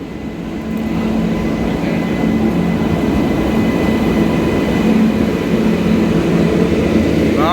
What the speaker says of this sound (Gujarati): આમથી સુરેન્દ્રનગરની ટ્રેન આવે છે